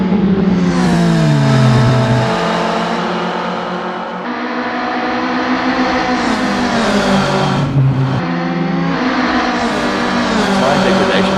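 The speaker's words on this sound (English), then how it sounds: "The roaring engines are echoing Smells Like Wee's battle." Racing car engines roar in the Assetto Corsa video game during club racing at Barcelona, led by a VW Golf Mk1, with loud revving rising and dropping through repeated gear shifts.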